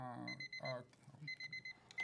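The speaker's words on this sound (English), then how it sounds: "That's the timer. That let me know the tea is ready to pour in your cup." Kitchen timer sounding off to signal brewed tea is ready: a few short repeated electronic beeps in bursts, mixed with a person talking nearby.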